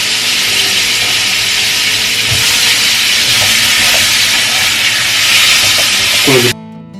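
Vegetable stems go into a hot pan of butter with sliced onion and chili, giving a loud, steady sizzle and hiss that holds close and constant before cutting off abruptly near the end.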